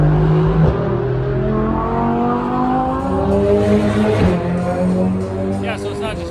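Race cars circle a track at Speed Vegas, engines droning and shifting pitch as they pass at a distance, with a brief tire squeal and voices murmuring over the steady engine noise.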